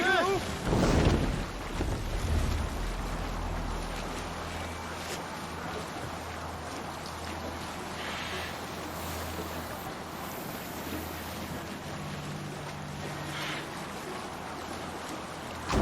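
Viking longship sailing across open sea in Assassin's Creed Valhalla, steady wind and water wash with low rumble throughout, a brief louder swell near the start, faint game voices occasionally under it.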